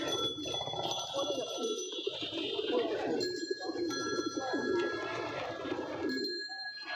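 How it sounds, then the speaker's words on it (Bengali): King pigeons at a busy pigeon market give low, soft cooing under steady crowd chatter and nearby voices, with faint bell-like tones and bird calls mixed through the continuous background. "তো নিচেও কিং কবুতর আছে"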